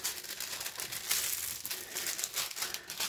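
Plastic protective film on a diamond painting canvas crinkles and crackles steadily up close, a busy rustling texture with soft swells and no talking.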